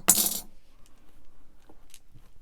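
British pound and 2p coins drop into a cash-stuffing envelope, one sharp metallic clink at the start followed by a few faint small taps in an otherwise quiet room.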